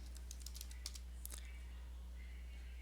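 A quick run of keystrokes on a computer keyboard types an apt-get update command on a Debian 9 machine. The close clicking lasts about a second and a half, then only a steady low hum remains.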